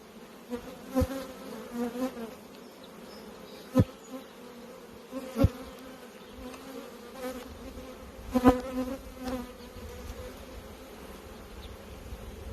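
Honey bees swarm around a strong spring hive in Michigan, a steady close buzzing drone broken by several sharp knocks and clicks.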